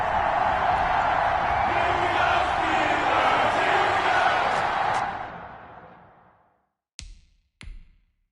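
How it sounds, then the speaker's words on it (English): A football stadium crowd at a Pittsburgh Steelers game roars and cheers loudly and steadily for about five seconds, fading out, followed by two brief sharp sounds. "This crowd is ready as their guys get set to match up between our visitors and the Pittsburgh Steelers."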